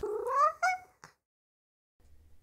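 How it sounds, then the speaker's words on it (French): A happy cat in a wooden cabin gives one clear, close meow with a second shorter call right after, then a faint click and near silence. "Et voici le principal locataire, Léo, un chat heureux"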